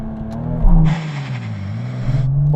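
Toyota Supra Mk4 (TRD) launching with the engine bogging, a loud close engine note that sags and wavers in pitch, with a harsh broadband burst in the middle before settling back to a lower drone.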